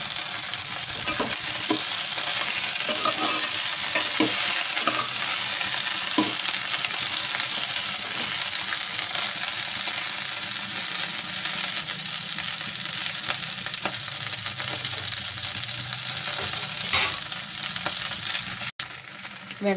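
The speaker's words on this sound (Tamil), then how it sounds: "நல்லா வெண்டைக்காவை இந்த வழவழப்பு தன்மை போகிற வரைக்கும் நல்லா கொஞ்சம் வதக்கிக்கும்." Sliced okra (lady's finger) sautéing in a pan for a spicy tamarind curry, giving a constant loud sizzling hiss with occasional light stirring clicks, close by and with no one speaking.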